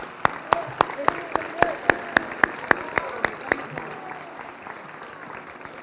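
Sharp, evenly spaced claps ring out one after another at a festival pageant presenting the queen and court of honour, a dozen or so distinct strikes over a background hum of a crowd, thinning toward the end.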